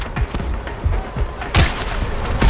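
Gunfire from a long-range sniper shooter video game: a rapid string of sharp, booming shots and thuds, with a louder, brighter blast about halfway through, followed by more scattered reports.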